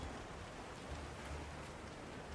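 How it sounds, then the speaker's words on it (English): A heavy rain downpour in Monster Hunter Wilds hisses as a dense, steady wash of noise, faint and constant throughout with a low rumble beneath and no talking. "how much they were willing to limit visibility during the downpour here"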